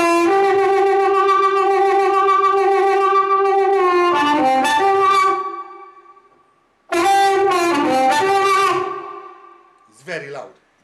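Loud harmonica through a Hohner Harp Blaster amplifier plays sustained chords that bend and shift, stops, then returns with another long swell and a brief trailing note.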